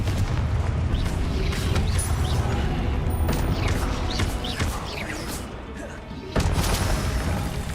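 Loud booming blasts of the Confringo explosion spell in the Hogwarts Legacy video game, several heavy crashes over dense combat noise, near and continuous.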